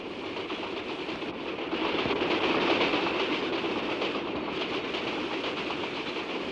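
A train rolls along the rails with a loud, continuous rumble and faint rhythmic clatter, swelling slightly partway through, heard from on board with no talk.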